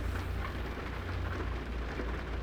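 Steady heavy rain in American Truck Simulator, a dense unbroken hiss of drops with a low rumble underneath, constant and fairly loud throughout.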